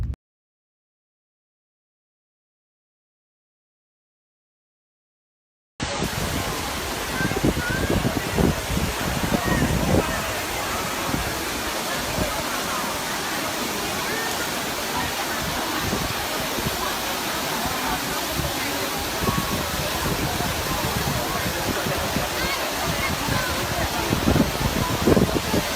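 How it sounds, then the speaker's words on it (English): Rushing water of the Trevi Fountain in Rome, a steady broadband splashing roar that starts after several seconds of silence and continues evenly, loud and close, with crowd murmur mixed in. "This is Trevi Fountain."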